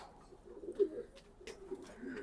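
A racing pigeon gives soft, low coos, quiet and a little distant, in a few short uneven bursts over a hushed background.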